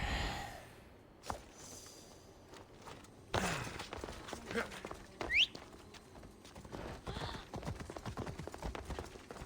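Horse hooves clip-clopping in a video game, faint at first and then a quicker rhythmic trot, with a few breaths and snorts mixed in.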